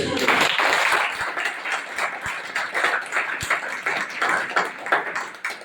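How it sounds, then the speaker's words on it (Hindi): An audience claps for Rakesh Sharma at a business meeting, a steady, dense patter of many hands that holds at an even level for several seconds, with no voice over it. "राकेश शर्मा, ताली बजाइए एक बार"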